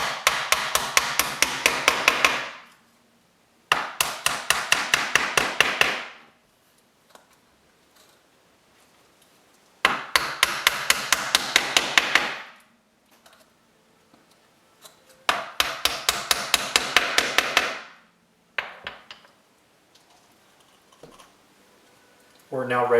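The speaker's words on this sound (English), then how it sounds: "Using a small ball peen hammer, work from the outside and tap the pins in." A small ball peen hammer taps pins into a picture frame in four rapid bursts of sharp, close metallic taps. Quiet pauses separate the bursts, and a few lighter taps follow them.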